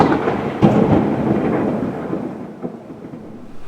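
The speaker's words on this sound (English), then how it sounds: "when the thunder comes through, you just hear it like echoing through all the buildings" Thunder rumbles loud and close during a storm among city buildings, a long rolling roar with a sharper crack early on, then a steady wash that slowly fades.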